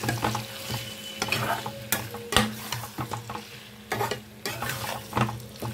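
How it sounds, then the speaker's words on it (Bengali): Spices are sautéed with pumpkin and potato in a pan, with repeated scraping stirs and spoon knocks over a steady close sizzle. "এখন আমি এই মশলাটাকে খুব ভালো করে কিন্তু এই কুমড়ো আর আলুর সাথে একটু কষিয়ে নিই"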